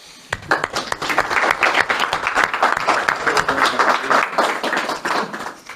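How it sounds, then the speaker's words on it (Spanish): Sustained applause from a lecture audience, many hands clapping steadily and fairly close for several seconds after a brief quiet start. "Un aplauso."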